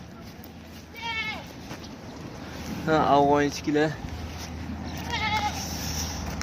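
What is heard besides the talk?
sheep bleating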